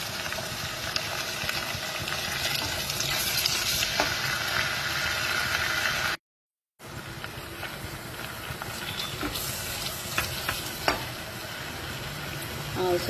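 Masala with turmeric sizzles and crackles in a pan for a mushroom masala curry, a steady close frying hiss with stirring scrapes, broken by a brief silent gap midway.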